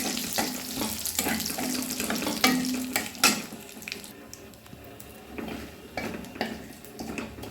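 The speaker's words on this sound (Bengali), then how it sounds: "এবার অল্প একটু জিরে দিয়ে দিচ্ছি ফোড়নের জন্য ফোড়নটা এবার ভেজে নিচ্ছি" Cumin seeds and a torn bay leaf fry in hot oil as a tempering for a papaya curry, giving a steady close sizzle with a few sharp crackles and stirring scrapes, and no voices.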